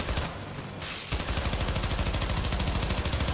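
Dense, sustained gunfire in the video game Syndicate, a rapid rattling burst of shots that keeps going almost without pause, loud and close.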